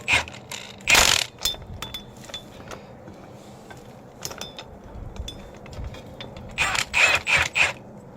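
A hand ratchet on 3/8 bolts of a 1969 Firebird 400 original rear axle assembly with a Safe-Track posi rear end, giving bursts of quick metallic clicks between quieter pauses, close and loud, with no talking.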